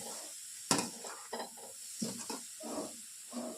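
Grated carrot for carrot halwa being stirred in a pan, giving soft irregular scrapes and shuffles over a low sizzle, quiet and close.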